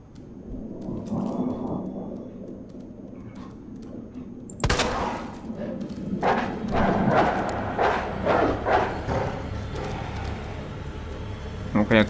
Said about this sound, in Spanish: Está plagado de perros.